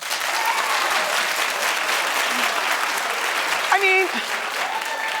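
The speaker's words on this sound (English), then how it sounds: "Clap if you don't care." A TV talk-show studio audience claps continuously, a dense steady patter close and even in level, with a brief spoken remark over it near the end.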